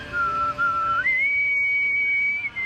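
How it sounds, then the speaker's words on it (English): A person whistles a short tune of two sustained clear notes, the second pitched higher and held longer, loud and close with no talking. "You could whistle the army thingy."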